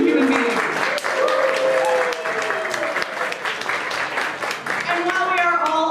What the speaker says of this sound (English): Please join me in a round of applause for all these amazing human beings.